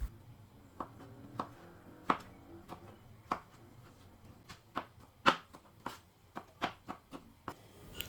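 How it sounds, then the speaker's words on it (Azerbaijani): A knife chops a large tomato finely on a board, about a dozen soft, irregular taps spaced under a second apart, close and fairly quiet, with no talking. "Bir böyük pomidoru da xırda doğrayıram."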